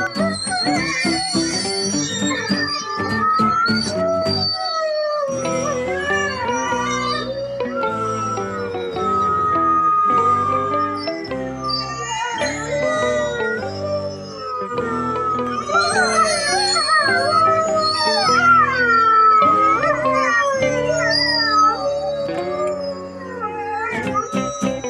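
A pack of wolves howls in long, overlapping rising and falling calls, with yips and whimpering mixed in, loud and close throughout with only brief gaps.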